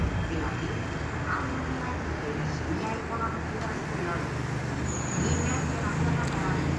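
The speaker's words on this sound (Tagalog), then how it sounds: "Daming sasakyan sa baba namin." Continuous road traffic from many cars and buses passes below a balcony in Limassol, Cyprus, a steady rumbling wash of engines and tires with a brief higher whine, heard from above at moderate level.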